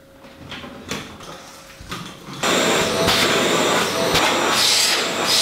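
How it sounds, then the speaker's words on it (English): A few soft bumps and rustles, then a vacuum cleaner switches on with a loud, steady roar while hoovering hair off a cast. "I've now got to hoover myself before I go into the video."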